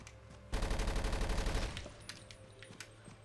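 Rapid automatic gunfire in the Avatar video game, a loud dense burst of shots lasting about a second, then scattered fainter shots and clatter trailing off.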